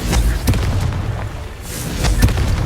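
Confringo spell blasts in Hogwarts Legacy go off as two sharp, booming explosions over a constant busy game backdrop, each one a loud, sudden burst.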